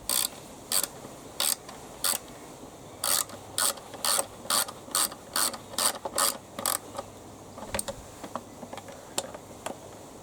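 A ratchet wrench tightens a bolt on the carburettor of an HY3200SEI, giving repeated short bursts of crisp, close clicking with brief pauses between strokes.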